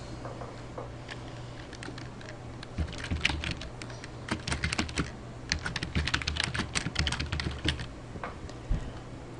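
Computer keyboard typing as a short expense explanation is entered into an online reimbursement form: quiet, irregular clusters of key taps that grow busier midway, over a low steady hum with no voices.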